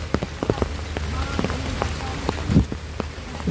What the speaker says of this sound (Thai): ฟ้าลงฝนตก